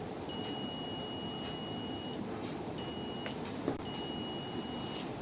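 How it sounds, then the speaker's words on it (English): A digital multimeter's continuity buzzer gives a thin, steady high-pitched electronic beep continuously, cutting out briefly twice before resuming, over a faint background hiss. "So I'll move to the buzzer section of the multimeter."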